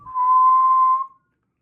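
A Flutino whistling device plays a single steady whistle tone, clean and sustained for about a second before it stops into silence.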